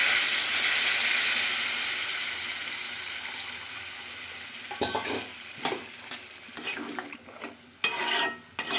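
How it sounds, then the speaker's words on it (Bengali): A pan of fried spice paste and vegetables hisses steadily, the sizzle easing once water goes in, followed by a run of sharp spoon scrapes and knocks against the pan as the mixture is stirred. "এবার দিয়ে দেবো জল"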